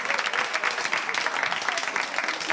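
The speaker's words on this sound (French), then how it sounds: "On l'applaudit, s'il vous plaît." Steady, full studio audience applause on a French television game show, continuous and close throughout with no pause.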